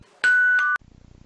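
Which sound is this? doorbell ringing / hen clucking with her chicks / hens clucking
doorbell ringing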